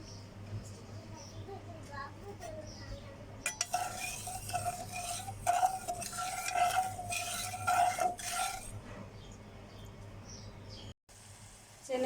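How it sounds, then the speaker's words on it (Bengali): Sugar syrup for lentil jalebi bubbling in a pan on the stove, a soft steady sizzle and simmer with stirring and clinks of a utensil against metal, a voice talking over part of it. "চিনির শিরাটা ফুটে উঠছে।"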